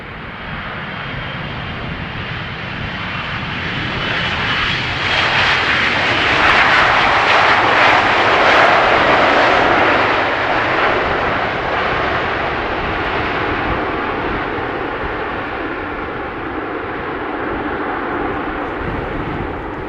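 A jet airliner arriving on runway 18R at Amsterdam Schiphol Airport roars loudly overhead, its engine noise swelling to a broad peak midway and then slowly fading as it passes, with no voices.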